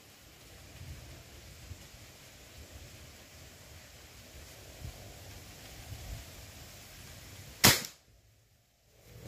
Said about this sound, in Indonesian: Kita coba tembak 5 kali.